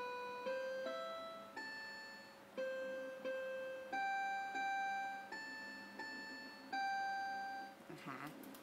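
Plucked-style notes from the guitar voice of a toy electronic keyboard play a simple melody of about a dozen evenly paced tones, each fading quickly. The sound is close and clean, and a brief clatter of handling comes at the end.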